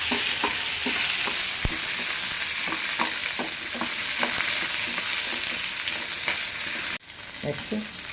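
Telangana-style colocasia (taro root) curry fries in hot oil in a pan: a loud, steady sizzle broken by repeated scraping stirs, with a brief cut near the end before the sizzling resumes.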